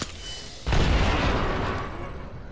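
A frag grenade detonates in a first-person shooter match, a sudden loud boom that jumps in over steady game ambience and then rolls into a long decaying rumble.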